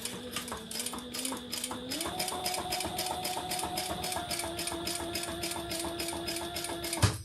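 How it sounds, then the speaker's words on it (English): Sewing machine stitching around a hole in fabric, a fast steady mechanical hum with a rapid even needle rhythm that shifts up in pitch once, running close and continuous. "we're going to stitch around that hole"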